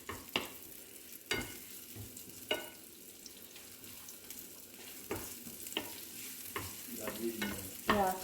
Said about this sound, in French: je jette un peu d'huile, pas beaucoup, et je mets l'oignon et je mélange comme ça un petit peu